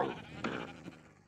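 A single sheep in the Minecraft video game lets out one short, wavering bleat, fairly close and alone, fading quickly afterward.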